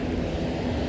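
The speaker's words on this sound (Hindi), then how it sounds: "मेरे सर के ऊपर से हेलीकॉप्टर जा रहा है।" A helicopter flies overhead along a walking route, producing a faint, low, steady rumble of rotor and engine throughout the brief moment, with no talk.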